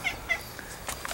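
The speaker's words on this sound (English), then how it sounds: "It's the squeaker cat." A squeaky cat gives a series of short, high-pitched squeaking meows, spaced irregularly and fairly close, against a quiet background.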